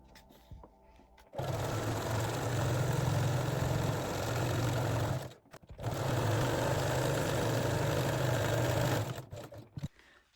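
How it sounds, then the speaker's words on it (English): A sewing machine runs small zigzag stitches along underbust elastic on a sporty bra, in two steady, loud whirring bursts separated by a brief pause, with no talking. "Then baste the edges together and sew them with small zigzag stitch."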